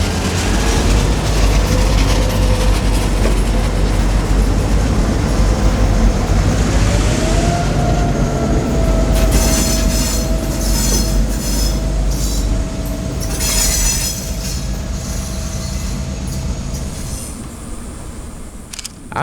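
Two Florida East Coast Railway freight locomotives, a GP38-2 and a GP40-2, roll slowly along an industrial spur with a loud continuous rumble, steel wheels squealing and creaking as the cars pass close by.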